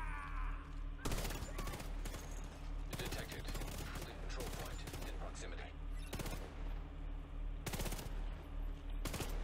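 Gunfire from a newly acquired weapon in the video game The Division 2, a series of sharp loud bursts with rapid shots, separated by quieter stretches of background game noise.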